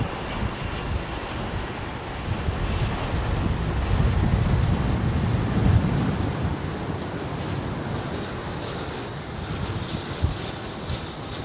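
A British Airways Boeing 777 airliner comes in to land at Heathrow, its engines a steady, broad roar that swells to a peak midway and then eases off, mixed with gusty wind noise.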